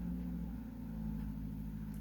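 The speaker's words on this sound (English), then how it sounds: "got a very loud car outside" Loud car passing outside, a steady low rumbling engine drone that holds throughout with no voices over it.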